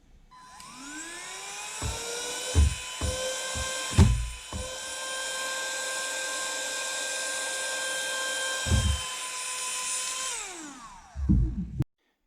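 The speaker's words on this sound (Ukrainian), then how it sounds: "будемо пробувати підняти за допомогою цього пилососу на першій швидкості" A vacuum cleaner on its first speed setting whines up, runs at a steady high pitch for several seconds, then spins down, with knocks and bumps around it.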